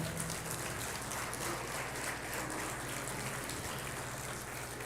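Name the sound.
congregation applauding in church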